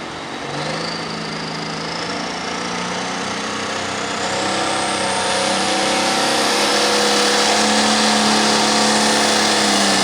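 The Ice 1066 Silver pulling tractor revs hard at an 8,500 lb Limited pull in Paris, Missouri, its engine note climbing steadily and growing louder over ten seconds of loud, continuous whine.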